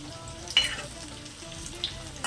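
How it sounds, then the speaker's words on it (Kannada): Baby potatoes fry gently in a pan, giving a soft, low crackle with a couple of brief stirring scrapes. "ಇದು ಚೆನ್ನಾಗಿ ಫ್ರೈ ಆಗಬೇಕು."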